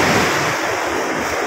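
Sea waves wash onto the shore at an early-morning beach, a loud continuous roar of surf with wind buffeting the microphone and no voices.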